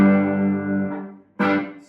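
An electric guitar played through a Benson amp rings out a sustained chord with short staccato reverb, fading before a second sharp strum cuts in.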